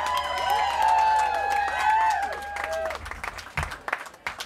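A live concert crowd at the Hard Rock Cafe in Boston claps and cheers. Sustained applause and whoops hold for about three seconds, then thin out into scattered claps, with a high ringing tone over the start.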